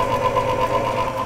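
An electric stand mixer hums steadily at medium speed while wheat flour is added to the batter, a constant close motor whine with no talking.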